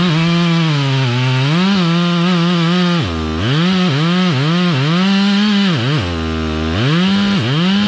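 A chainsaw fells a poplar tree outdoors, its engine loud and near, revving up and bogging down in repeated surges as it cuts, with a continuous buzzing drone throughout.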